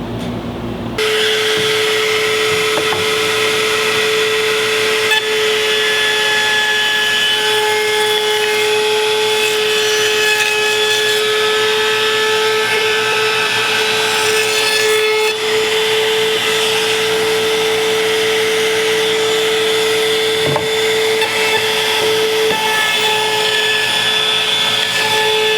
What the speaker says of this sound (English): Let's run it to the trimmer and see how that does.